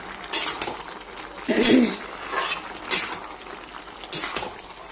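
Vegetables cooking in a pan at home: soft sizzling with scattered metallic clinks and scrapes of a utensil against cookware, moderately close.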